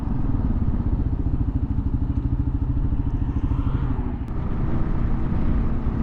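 Kawasaki KLR650 single-cylinder motorcycle engine under way, a steady close thudding rumble with a distinct pulsing beat and faint rattle throughout, heard alone without talk.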